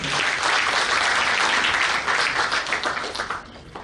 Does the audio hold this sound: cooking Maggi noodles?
no